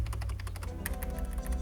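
Typing on a mechanical keyboard fitted with Matcha keycaps, a rapid, steady run of close, fairly deep clacking keystrokes with no talk.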